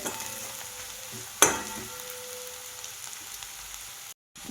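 Red chili and garlic frying in a pan for a hadga flower vegetable dish: a steady soft sizzle with a sharp clack early on, continuing until a brief silent cut near the end.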